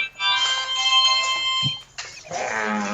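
Telephone ringing with a bright, steady electronic trill that fills the first two seconds, followed by a change to a different buzzing tone; loud and close, with no talk over it.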